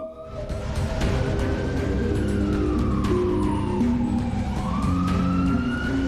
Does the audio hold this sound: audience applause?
no